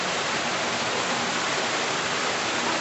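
Underground water of Patala Ganga in the Belum Caves, Andhra Pradesh, makes a constant, even rushing hiss, close and unbroken throughout.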